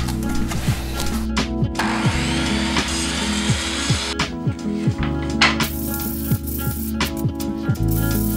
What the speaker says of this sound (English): I need to cut them down to the length of the shelves.